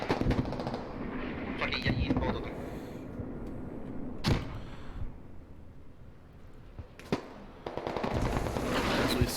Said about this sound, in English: Actually, I believe that was an artillery strike, if I'm correct.